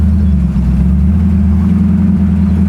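A 1964 Pontiac Parisienne's engine rumbles loud and close with a deep, steady low drone and a slight rise in pitch, heard alone without voices.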